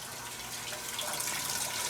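Water pours steadily into a tank while an RV is unwinterized, a continuous splashing hiss that grows slightly brighter and fuller as it runs, with no talk.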